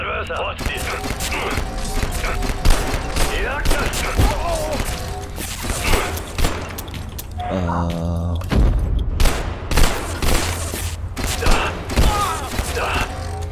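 Gunfire in the video game Abiotic Factor, shots popping in rapid irregular bursts alongside mechanical clanks and booms, with voices talking throughout.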